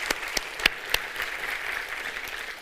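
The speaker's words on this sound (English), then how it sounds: "So I think Radek really deserves another round of applause." An audience at a React Native EU conference talk applauds steadily, with several sharp individual claps standing out at the start, then a dense, even wash of clapping of moderate loudness.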